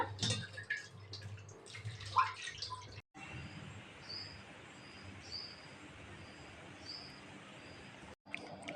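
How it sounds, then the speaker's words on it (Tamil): Soaked vegetable fertilizer liquid being strained outdoors, a steady trickling pour of water with faint birdsong in the background. "நம்ம ஊற வச்ச காய்கறி ஃபெர்டிலைசர இப்ப வடிச்சுக்கலாங்க"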